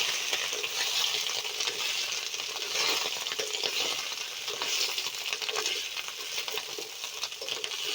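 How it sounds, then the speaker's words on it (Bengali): Cut potatoes and yellow cauliflower frying in a pan, a steady close crackling sizzle that runs the whole time with small scattered pops and faint stirring clinks, no voices. "আলু কপি আমি ভেজে নেব"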